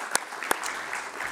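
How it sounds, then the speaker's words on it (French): Scattered applause at an education and employment workshop, with two sharp claps standing out early and then a faint, soft patter of hands continuing briefly. "je pense que c'est essentiel de les applaudir"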